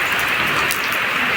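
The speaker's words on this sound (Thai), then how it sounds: "ฝนตก" Heavy rain pours down in a steady, loud, unbroken hiss with no pauses or voices, close and dense across the whole moment.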